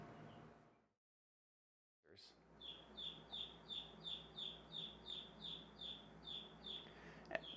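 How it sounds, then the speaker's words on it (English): Newly hatched baby chicks peep in a steady series of high, short chirps, evenly spaced and close by, over faint background noise after a brief silence. "My wife is hatching out baby birds."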